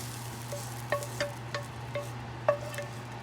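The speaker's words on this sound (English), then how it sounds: "brown it with the garlic, chopped garlic, and our shallots are pretty much brown, saute" Chopped garlic and shallots sauté in a pan with a soft steady sizzle, while a spoon scrapes and taps about six times at an uneven pace. The sound is quiet and close, with no talking.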